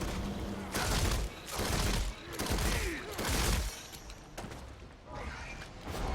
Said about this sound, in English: In this clip I'm using the Multi-Bow, which has the highest DPS of the 4 Hunter weapons